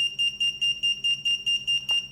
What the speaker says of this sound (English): Check the buzzer.